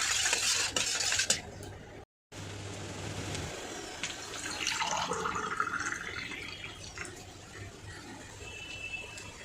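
A spoon stirs sugar into a glass of sharbat, making soft swirling liquid sounds and light clinks close by, with a brief silent gap near the start.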